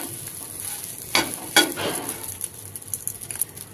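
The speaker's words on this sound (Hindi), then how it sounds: "मसाले के साथ चला लेते हैं।" A breakfast made from raw rice being stirred and fried with Maggi masala in a pan over a medium flame, with a soft steady sizzle and a few sharper scrapes of the spoon against the pan.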